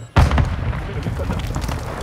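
A Semtex grenade goes off in Call of Duty Modern Warfare 2 with one sudden deep boom, followed by a rumbling tail, while a voice talks over it.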